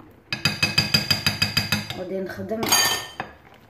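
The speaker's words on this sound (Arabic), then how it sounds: "غادي نخلطوها مزيان حتى ما يبقاو حتى شي حبيبات." A whisk rattles rhythmically against a bowl, beating salty crepe batter with a quick, even run of loud clinks, then shifts into a brief scraping stir and a final burst of clatter.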